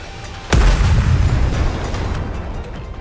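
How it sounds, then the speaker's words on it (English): Missile explosion in the Nikke video game: one sudden loud boom with a heavy low-end burst, followed by a rumbling, crackling tail that slowly fades over a few seconds. "The missiles have no homing ability. It's just firing wildly!"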